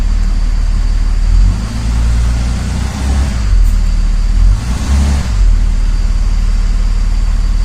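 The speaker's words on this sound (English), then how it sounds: "Sitting here idling in the shop in drive" A 2004 Dodge Ram with a 5.9 Cummins diesel idles in drive inside a shop while its transmission shifts erratically. The engine gives a loud, close, steady low rumble with slight swells in pitch.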